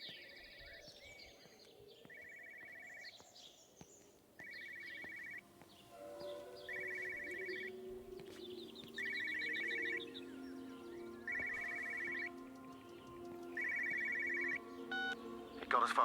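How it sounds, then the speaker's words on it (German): A telephone rings in the video game Everybody's Gone to the Rapture: a steady series of about seven evenly spaced electronic ring bursts over a low ambient drone, with birdsong early on and a louder clatter at the very end. "Klingelt Telefon."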